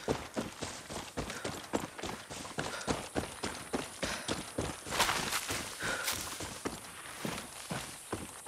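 A horse's hooves clip-clop in a quick regular rhythm as it moves along in the video game Far Cry 6, close and steady, with some heavier thuds mixed in and no talk.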